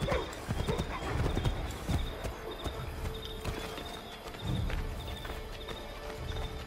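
Horse hooves clip-clop steadily at a walking pace in Assassin's Creed 3, close and clear, with a brief whinny and faint background ambience.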